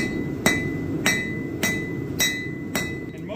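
A hammer strikes hot steel five times at an even, steady pace, flattening the tang of a knife being forged, each blow a sharp ringing clang over faint background noise.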